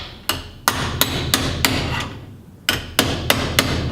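A hammer strikes sheet metal clamped over angle iron on a Chevelle project: about nine sharp metallic blows in two uneven bursts, close and loud with a short pause between them.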